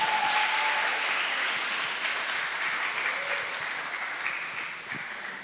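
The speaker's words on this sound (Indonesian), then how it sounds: "Kasih tepuk tangan buat Tuhan." Sustained applause from a church congregation fills the room, steady and fairly loud before slowly tapering off near the end.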